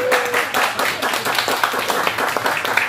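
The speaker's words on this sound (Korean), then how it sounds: "박수 한번 부탁드립니다." Audience applause and clapping at a live band concert in Busan, a dense sustained wash of many hands clapping steadily throughout, loud and close with crowd noise.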